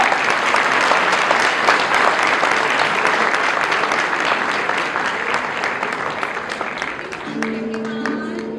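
A school audience claps and cheers loudly for young UKG students after a musical performance, a dense sustained burst of applause that slowly fades, with a brief tone entering near the end.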